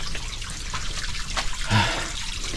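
Water trickling outdoors in a steady wash with a brief louder gurgle midway, no speech over it.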